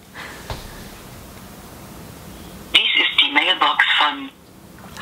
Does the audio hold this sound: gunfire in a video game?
no